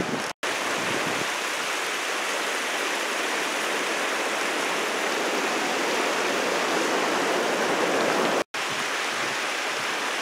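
A small river flows beside a paved trail near a footbridge at Sonora Pass, making a steady, full rushing sound close by that runs without a break, apart from two very short dropouts.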